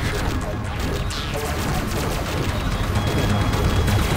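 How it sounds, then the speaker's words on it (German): Steady, dense gunfire in the space-flight shooter game Descent 2: a continuous loud rattle of rapid shots with crashing impacts, unbroken for the whole stretch. "Da kann man einfach in die Luft schießen."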